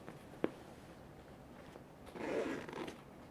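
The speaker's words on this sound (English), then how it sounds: "Now please look at the zip we use." A zipper on a pink-zipped school handbag is pulled in one short rasping run, preceded by a single light click, close and alone against a quiet room.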